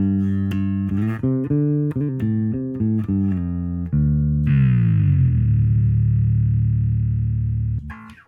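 Bass guitar played through a Line 6 HX Stomp with a foot-switched dive bomb effect: a run of plucked distorted notes, then a sustained note that swoops downward in pitch and hangs before cutting off.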